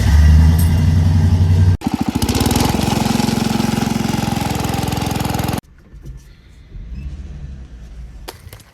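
A Wheel Horse LTD lawn tractor's small engine chugs loudly and close with a rapid knocking pulse, cuts out briefly, runs on, then falls away to quieter idling and faint mechanical noise.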